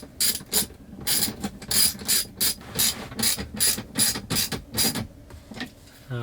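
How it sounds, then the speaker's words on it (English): A hand ratchet tightens 10mm bolts on a swiveling screen mount inside a Tesla Model 3/Y. It gives a rapid run of crisp, close clicks in quick bursts with short pauses between strokes, fading toward the end. "I'll tighten down these 10mm bolts, both sides"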